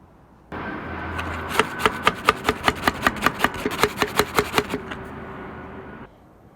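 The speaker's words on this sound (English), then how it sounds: "I'm going to saw this off" Hand saw cutting through a part of a tilting mechanism during a repair, a steady run of about fifteen rhythmic rasping strokes, close and loud, with no talk.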